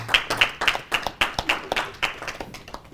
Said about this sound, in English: I think debaters deserve another round of applause for their efforts here.